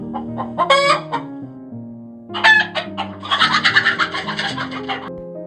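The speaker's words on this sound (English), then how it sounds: "cock, crow, hen," A rooster crows loudly and close, then a hen clucks in a quick series of rhythmic calls, each bird heard alone with no talking.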